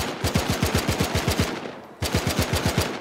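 A vehicle gunner's machine gun fires in the IFA3 Arma video game: a rapid, evenly spaced burst of about ten loud shots, a short pause, then a second burst.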